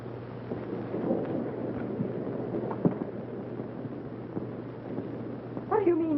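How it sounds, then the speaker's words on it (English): Thunder rolls through a storm scene with steady rain beneath it, low rumbles swelling and fading across several seconds at moderate distance, with faint voices and other sounds near the end. "they have thunder and lightning"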